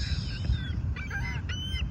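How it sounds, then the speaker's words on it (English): Seagulls call over Biscayne Bay at sunrise, with a few short, bright cries rising above a steady low rumble of wind or water. "we have the seagulls flying around us"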